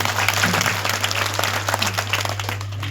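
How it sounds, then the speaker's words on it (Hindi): Crowd applause at a village religious gathering marking Guru Ghasidas Jayanti, a steady dense clapping over a constant low electrical hum, with a faint voice under it. "आप सब के मैं जोरदार ताली के साथ सम्मान करता"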